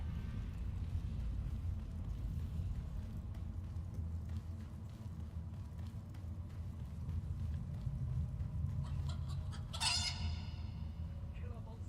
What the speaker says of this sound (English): And the killer monsters are... chickens?